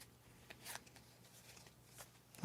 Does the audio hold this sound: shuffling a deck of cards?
yes